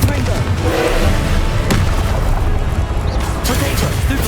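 A loud Confringo spell explosion booms in the Hogwarts Legacy video game, followed by a dense wash of crashing combat noise and a couple of sharp impacts.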